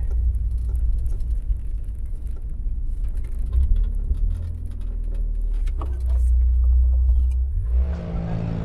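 Cars driving along Avenida Espora in Valeria del Mar, a continuous low traffic rumble close by with passing engines swelling and fading, and a louder vehicle noise near the end.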